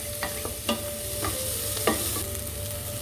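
Celery for soup softens in a pan with a quiet, steady sizzle, broken by a few sharp spoon scrapes and taps against the pan, with no talking.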